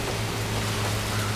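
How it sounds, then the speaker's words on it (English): Rain falls steadily in Hawaii as Hurricane Lane passes, a dense, even hiss of drops with no voices. "A little bit more rain."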